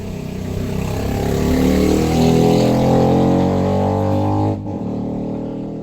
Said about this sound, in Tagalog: Ang ingay guys, napakalaki ng boses ng motorsiklo na dumaan.